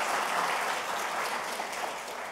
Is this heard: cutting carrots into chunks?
no